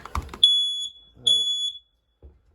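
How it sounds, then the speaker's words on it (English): Two shrill, high-pitched electronic beeps from a smoke alarm in a 2013 Lacrosse 301RLS, each about half a second long, with a short pause between and brief speech nearby. "And then right above our head is our smoke detector."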